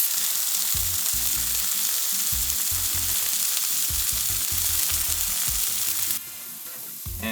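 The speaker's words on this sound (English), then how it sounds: "get that sear on each side nicely" Seared fish fillet sizzling in a hot frying pan, a steady loud hiss with intermittent low sputtering pops throughout, easing slightly near the end.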